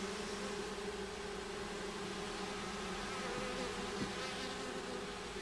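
Honeybees fanning pheromone at the hive give a dense, continuous buzzing hum that stays steady and fairly close throughout, with no voices.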